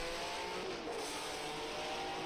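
In a racing video game, a 1967 Bruce McLaren Formula One car drones with a steady, loud engine note on a lap at Longford, broad and continuous with no speech.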